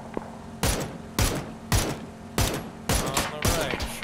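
Gunshots in the video game PUBG: a series of six loud, sharp reports spaced roughly half a second apart, each with a brief echoing tail, over a low steady background hum.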